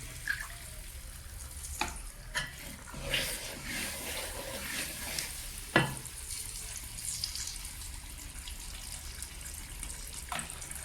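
A thick herbal medicine mixture is stirred continuously in a pan, with soft scraping and occasional sharper knocks of the spoon against the pan over a low steady sizzle. No one speaks.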